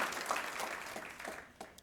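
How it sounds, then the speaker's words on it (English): Brief applause from an audience at a State of the State address in Torrance, California, a short, steady patter of many hands clapping with a few louder claps near the end. "So let's give our Torrance Unified School District a round of applause."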